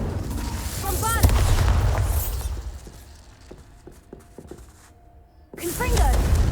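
A Bombarda blast spell goes off in Hogwarts Legacy, a loud booming explosion with crackling debris that fades into quieter rumble before a second heavy burst erupts near the end.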